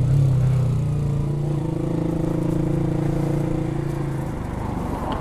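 Manual motorcycle pulling away uphill in first gear, throttle opened as the clutch is released, a steady engine drone with a sustained low hum that eases off slightly toward the end.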